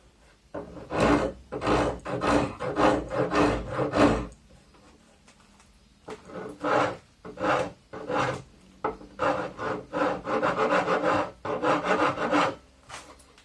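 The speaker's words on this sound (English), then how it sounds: "I'm almost done with the rasp, and now I'm gonna take a file" A rasp files a wooden axe handle being fitted to a hatchet head, with rapid rough scraping strokes in bursts, a short pause around the middle, then more quick rasping strokes, close and clear.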